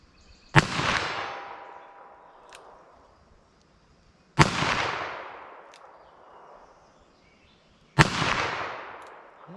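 Three CCI Uppercut .22 Magnum rounds fired single action, each a sharp loud crack with a decaying outdoor echo, spaced about four seconds apart.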